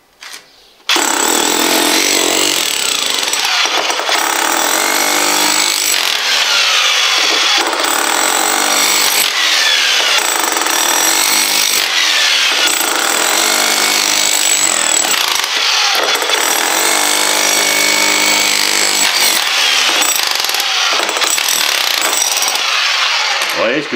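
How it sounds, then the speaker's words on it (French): Jackhammer breaking up a concrete floor screed indoors, a loud close rattling hammering in long sustained bursts separated by brief pauses, running almost continuously with no speech. "c'est opération marteau-piqueur. Et on va casser tout ça."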